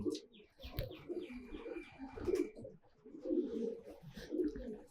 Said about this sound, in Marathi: हे दोन वर्षाचा कबूतर आहे बरं